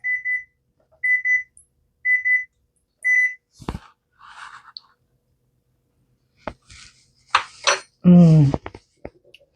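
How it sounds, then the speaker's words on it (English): A kitchen timer beeps in four short, evenly spaced bursts, followed by scattered clinks of pots and utensils and a brief voice in a home kitchen. "My timer."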